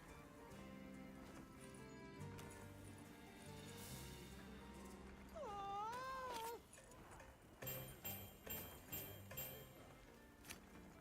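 Synthetic cat meows sound amid game music and effects in Monster Hunter Wilds, a short mewing call followed by a run of bright chiming tones.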